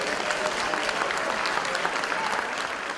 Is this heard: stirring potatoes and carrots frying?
no